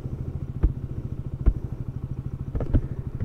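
A motorcycle sets off on a ride from Rukumkot in Eastern Rukum: a low, even engine rumble with a few sharp knocks and thumps scattered over it.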